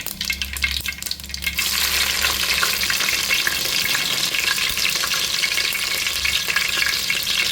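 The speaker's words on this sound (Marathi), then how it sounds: "मोहरी टाकते, त्यानंतर मिरची," Mustard seeds and chilies frying in hot oil, a loud continuous crackling sizzle heard up close, with a brief rustle as they are added at the start and no voices.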